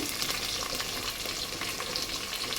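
Green chillies with slits cut in them frying in a pot for bagara rice, giving a dense, even hiss of hot oil that crackles continuously and stays close.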